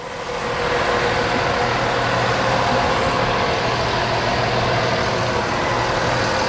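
A new Amazone Pantera 7004 self-propelled sprayer runs with a steady, loud engine drone and a low, constant hum, close by and unbroken, with no talk.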